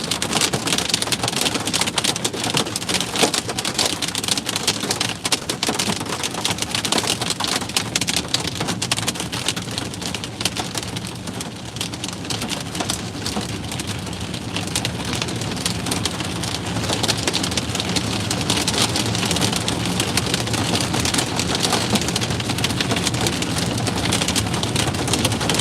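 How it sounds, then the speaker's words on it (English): Hail pelting a road during a New Mexico severe thunderstorm, a dense, steady roar of countless stones hitting pavement, loud and unbroken throughout with no voices. "The road is literally getting covered in hail."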